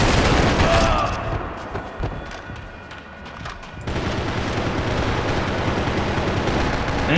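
Rapid gunfire bursts in the online multiplayer mode of the video game Max Payne 3, dense and loud at first, thinning out midway, then resuming as a sustained clatter of shots.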